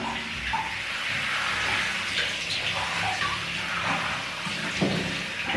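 Water runs steadily from a tap while hair is washed with shampoo, a continuous close splashing hiss with small shifts as the stream hits the head, and no voices.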